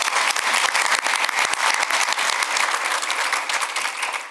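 Steady round of applause from a luncheon audience honoring Dr. Tim Collins at a business club event, dense clapping sustained evenly throughout without voices.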